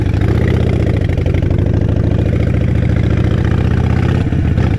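A motorcycle engine runs steadily and loudly while riding through San Francisco, with a rough, low, pulsing drone and no clear change in revs.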